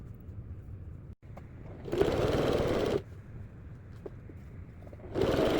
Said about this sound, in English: So I'm going to go back and sew that